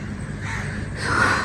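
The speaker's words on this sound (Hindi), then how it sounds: "कौवे बोल रहे हैं" Crows cawing at dawn, with the calls swelling near the end of the brief stretch over a steady low background hum; no talking.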